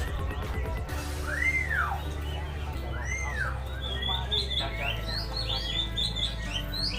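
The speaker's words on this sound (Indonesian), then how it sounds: "Ini pasar burungnya teman-teman." Caged birds at an Indonesian bird market chirp and whistle in rising and falling calls, several voices overlapping over a low ambient hum of the busy market, moderately close.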